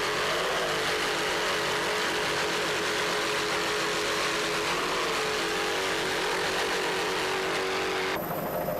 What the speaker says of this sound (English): Those Zool Racing engines are doing their job.